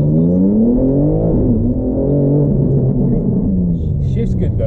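A 700hp BMW G80 M3 being driven, its engine and exhaust giving a loud, deep drone that rises and falls with throttle and gear changes, with cabin rumble underneath.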